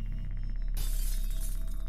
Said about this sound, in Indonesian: Loh, kok ada suara kaca pecah?